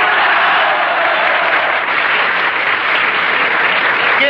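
Large crowd applauding a political speech by a Peruvian leader, steady dense clapping that fills the whole stretch at high level without pause.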